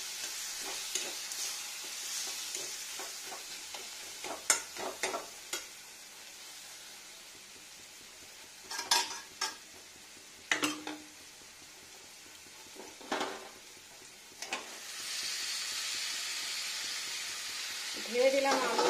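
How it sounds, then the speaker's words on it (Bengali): Two medium tomatoes frying in a pan for a vegetarian potato and pointed gourd curry, a steady soft sizzle with scattered stirring scrapes and clinks, moderately quiet and continuous throughout. "এবার ভালো করে ফ্রাইং করব।"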